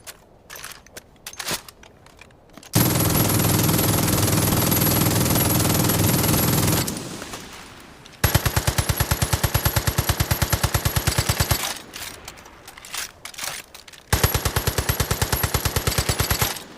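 Sustained automatic gunfire in the video game Division of Arms as a table is shot up, loud and close, with a long continuous burst, then two more rapid rattling bursts separated by brief pauses.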